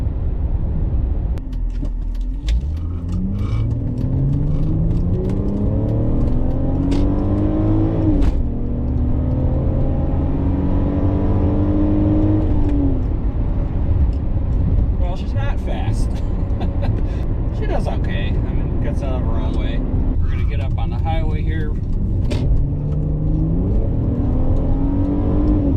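A high-mileage BMW 325i with a GM automatic transmission accelerates while driving, its engine note climbing steadily and dropping at each smooth upshift, several times in a row. The engine and road rumble run continuously under a person talking.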